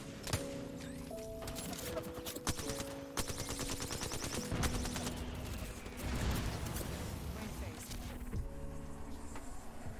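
Rapid bursts of video-game gunfire crackle through a battle royale fight in a ranked solo-queue endgame, sharp repeated shots over a busy mix of game sounds while a player talks.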